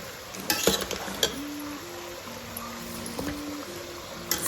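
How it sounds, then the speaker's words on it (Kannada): Stirring turmeric powder into green chicken masala in a pan, with soft scraping and clinking strokes of a spoon over a faint sizzle and a low steady hum. "ಅರಿಶಿಣ ಪುಡಿ ಹಾಕಿ ಚೆನ್ನಾಗಿ ಮಿಕ್ಸ್ ಮಾಡ್ಕೊಳ್ಳಿ."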